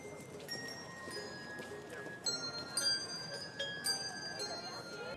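Handbells playing Christmas music outdoors outside the Detroit Historical Museum, bright ringing tones struck in a melody and heard at moderate distance, with crowd murmur and voices underneath.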